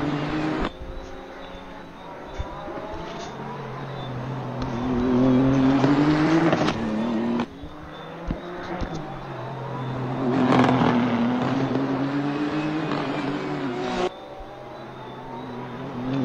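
Nissan GTR GT3 race car in a racing video game at Long Beach, its engine droning steadily and rising and falling through gear changes, with faint tire squeal, alone without talk.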